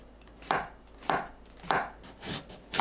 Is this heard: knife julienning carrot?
yes